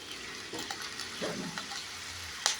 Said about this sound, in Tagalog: ingat lang tayo sa pagluluto kasi tumatalsik talaga yung oil niya